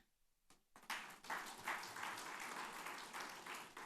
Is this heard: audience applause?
yes